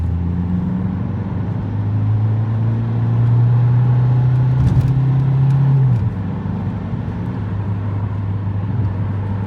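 An Opel Astra H 1.3 CDTI diesel climbs uphill with tuned software, its engine droning loudly and steadily from inside the cabin, the pitch holding then dropping as the load eases.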